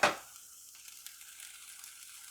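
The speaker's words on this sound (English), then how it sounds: "we're going to saute the vegetables. I got the onions, bell pepper, and the green onions." Onions, bell pepper and green onions sauté in a pan: a soft steady sizzle follows a brief clatter at the start. The frying stays faint and continuous with no voices.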